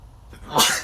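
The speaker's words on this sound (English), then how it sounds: "Here comes my morning sneezing fit." A single sharp sneeze bursts out after a brief inhaling buildup, close and fairly loud.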